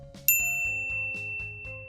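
A single bright notification bell ding strikes once and rings out with a long shimmering decay over a soft rhythmic music bed.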